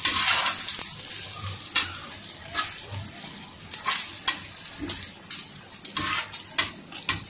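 Egg sizzling and frying in a pan for a shami kabab burger, a steady crackle with occasional scraping clicks from a spatula against the pan, close and continuous.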